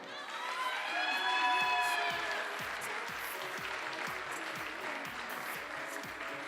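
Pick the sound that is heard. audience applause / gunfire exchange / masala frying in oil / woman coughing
audience applause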